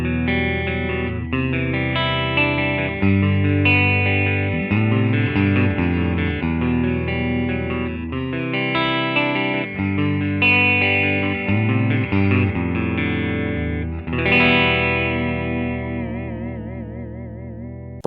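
Dean ML 79 electric guitar on its middle pickup position, heavily distorted with effects, played as loud sustained chords and riffs with a shimmering chorus-like wobble on the final ringing chord, no talking.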